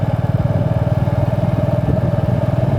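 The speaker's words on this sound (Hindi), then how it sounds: "चलिए हम बाइक राइड भी करते हैं" Motorcycle ride on a road in Dehradun, the engine thumping in a fast steady pulse at a constant cruising pace, loud and close with no talk over it.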